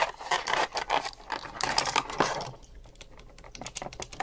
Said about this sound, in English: I'll add a little clip of me after I've installed them on my keyboard to see what they sound like